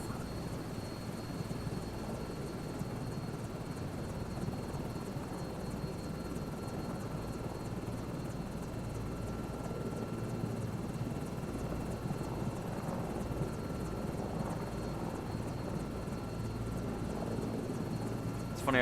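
An Airbus H125 helicopter in Microsoft Flight Simulator 2024 gives a steady, close turbine whine and rotor drone that holds an even loudness throughout.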